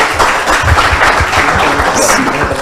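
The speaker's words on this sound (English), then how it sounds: "Please give them a big round of applause, ladies and gentlemen." Applause from the audience for a debate team at a debate on ASEAN membership and education, a loud, steady wash of clapping with some voices mixed in throughout.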